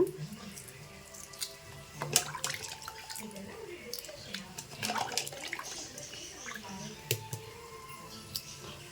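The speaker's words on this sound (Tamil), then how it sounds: "இந்த மாதிரி முட்டையை வந்து சுடு தண்ணிக்கு கீழே ஊற்றிட்டு கொஞ்சம் சில் தண்ணி ஊற்றிட்டு இதை உரித்து எடுத்துடலாம்" Hot tap water runs and splashes over boiled eggs being rinsed in a sink, with uneven gurgling, drips and clinks of shells, while someone talks over it.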